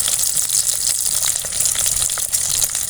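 Mustard seeds, onion, garlic and green chillies crackle and sizzle steadily in hot oil while cooking musumusukkai keerai chutney, a dense close-up frying hiss with no talk.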